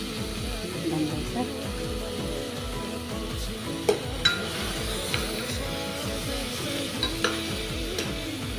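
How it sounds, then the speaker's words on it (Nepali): Mutton with spices is stirred in a pan for a Nepali-style gravy, steady scraping and sizzling with occasional sharp clinks of the spoon against the metal, close and continuous. "अब चाहिँ एकदमै राम्रोसँग मसलाहरू मिक्स हुने गरी चलाउने।"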